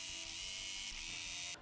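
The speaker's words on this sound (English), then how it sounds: "I'm just letting the sewing machine take it in," A sewing machine stitches a quilt border, a steady, fast mechanical whirr with a bright buzzing tone that runs continuously, then cuts off sharply near the end, with no voices.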